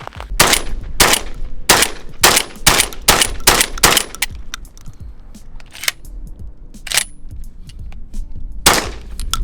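Rapid shotgun blasts firing cheap, underpowered birdshot during a 500-round endurance test of a Turkish shotgun, loud close reports in quick bursts of five or six, then scattered single shots with pauses between.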